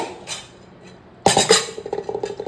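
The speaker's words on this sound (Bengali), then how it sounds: "এবার প্রেসার কুকারটাকে ধুয়ে" A metal pressure cooker being washed in a kitchen: a quiet start, then a sudden loud clatter and a series of close clinks and knocks of metal pots and utensils.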